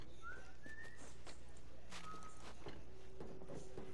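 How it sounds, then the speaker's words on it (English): A character whistles in the video game The Last of Us Part II, giving short tonal whistled notes over a busy ambient game soundscape with scattered footsteps and clatter. "I'm whistling."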